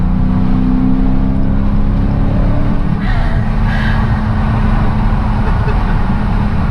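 A race car engine drones loudly up close in Qatar, its pitch steady and then shifting as it accelerates, with a constant road roar underneath.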